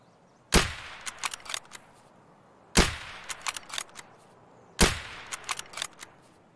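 Video game battle gunfire: three loud sharp shots roughly two seconds apart, each trailed by a quick burst of smaller cracking pops, with no talking.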